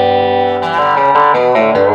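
An electric guitar, a 1970s Fender Telecaster Custom through a Carr Super Bee amplifier on a clean setting, plays sustained, harmonically rich chords with a spacious reverb tail, with new strums layering over the ringing notes.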